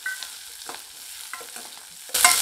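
Chopped onion and curry leaves sauté in hot oil in a pan, a soft crackling sizzle with stirring scrapes, rising to a brighter, louder fry at the end.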